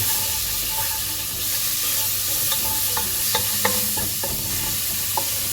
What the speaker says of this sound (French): Vous versez dans votre cocotte et vous mélangez.